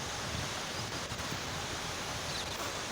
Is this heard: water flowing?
yes